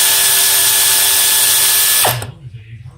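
Pneumatic air ratchet removing a T30 bolt on an Audi A4 1.8T, a loud, close continuous whirring buzz that stops abruptly after about two seconds, leaving faint background noise.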